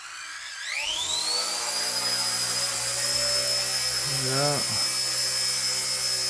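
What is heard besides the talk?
RC ERA 1/48 scale Huey helicopter flying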